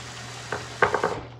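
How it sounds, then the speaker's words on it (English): Hands rinsed under a running tap: a steady, close hiss of flowing water broken by a few splashy bursts as the hands move through the stream, cutting off just before the end. "Wash my hands off."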